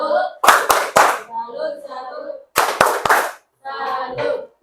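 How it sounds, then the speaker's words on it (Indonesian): A school class performs a rhythmic 'tepuk salut' clapping cheer, two rounds of three sharp loud claps, each followed by children chanting in unison, nearby and lively. "Tepuk salut."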